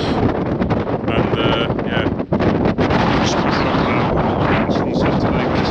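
Heavy wind gusting to 43 mph buffets the microphone at a winter wild camp in loud, continuous roaring gusts, with a brief dip partway through before the blustery rush resumes.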